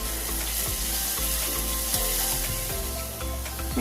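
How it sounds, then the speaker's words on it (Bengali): Coriander and cumin powder with a spoonful of sugar fry and get stirred in hot oil, a steady close sizzle with repeated scraping strokes of a spatula through the pan, no voices. "এই সবগুলো ভালো করে কষে নেব যাতে মশলার গন্ধ না থাকে"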